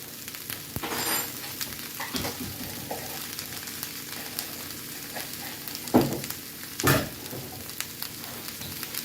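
Brussels sprouts and bacon frying in a pan, a steady close sizzle with scraping stirs and a couple of louder clatters of the spoon against the pan.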